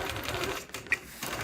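A quilting machine stitches free motion quilting across a block, a steady fast mechanical whir that runs for nearly the whole moment, with a brief lull and one small sharp tick partway through.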